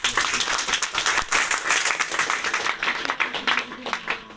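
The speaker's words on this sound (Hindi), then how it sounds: "ताली बजाओ परमेश्वर" A congregation claps at a Hindi-language church service, with a dense, lively burst of close hand claps sustained throughout and a voice faintly mixed in.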